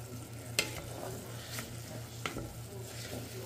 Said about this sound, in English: Then we're gonna add our rice into that garlic and butter.